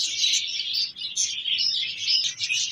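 Ring-necked parakeets, yellow and blue varieties, chatter and screech at a Sunday bird market, a continuous close flock of shrill chirps and calls with no talking.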